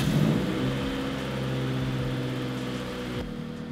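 A Honda Civic engine running just after a gasket repair, idling and revving with a steady mid-pitched drone and a rise in pitch near the start, heard close and alone.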